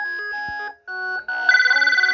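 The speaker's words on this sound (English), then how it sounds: "It gets caller ID, but we can't see it. But it is ringing." A GE 28214KE2-A telephone rings on a test line, steady electronic tones broken by short gaps, then a brighter warbling trill pulsing rapidly near the end.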